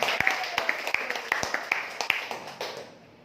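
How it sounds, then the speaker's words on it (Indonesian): A small audience at a sharia business seminar gives sparse, rhythmic clapping, individual claps distinct and fairly close, tapering off toward the end. "beri tepuk tangan buat Pak Anda semua"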